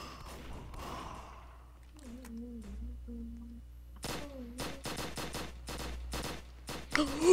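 Rapid bursts of police gunfire in a prison-break video game, a tight volley of sharp cracks crowding the final seconds after quieter stretches of synthetic tones and thuds.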